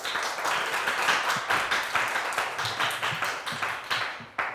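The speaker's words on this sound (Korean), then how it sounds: "박수 부탁드리겠습니다" An audience at a youth policy proposal presentation contest in Yeoncheon claps for the next student presenter, producing dense, loud applause that rises and falls in waves, with a few sharper claps near the end.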